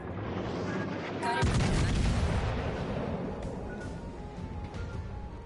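Naval guns fire in the warship game World of Warships Legends: one sudden heavy boom with a long rumbling tail, followed by softer distant shots over a constant background roar.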